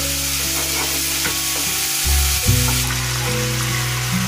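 Tomato paste frying in hot oil for a mustard tilapia curry, giving a steady close sizzle with stirring scrapes and a louder burst of spitting midway.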